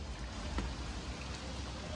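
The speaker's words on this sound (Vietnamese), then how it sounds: "Mưa dài quá anh em ơi." Long, heavy tropical rain pours down outdoors as a steady, dense hiss that fills the scene, with no voices heard.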